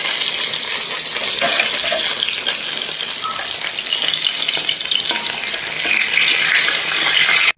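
Dried chillies and bay leaves frying in hot oil for a fish curry make a loud, steady, crackling sizzle that continues close up and alone, with no talk.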